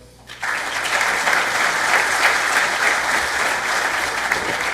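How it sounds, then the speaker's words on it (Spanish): A conference crowd claps steadily in sustained applause for the speakers, starting abruptly and holding a dense, even roar of hands for several seconds without voices. "para quienes brindamos un fuerte aplauso"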